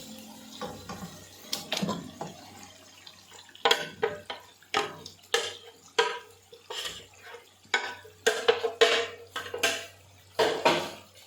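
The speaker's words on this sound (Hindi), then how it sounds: "अब इसके अंदर हम डालेंगे मैरिनेट किया हुआ चिकन" Marinated chicken tipped into a pot of cooked onion and tomato and stirred in for an achar gosht curry, heard as a run of close wet scrapes, clanks and sloshing bursts at an irregular rhythm, with no talk.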